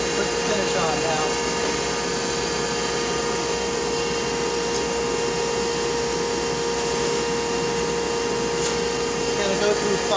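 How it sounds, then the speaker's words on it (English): Bubinga gearshift pen spinning on a wood lathe while being sanded, a steady continuous motor whir with a constant tonal hum and faint rasp of abrasive, close and unbroken for the whole stretch. "For the turning, we just gotta sand it and put the finish on now."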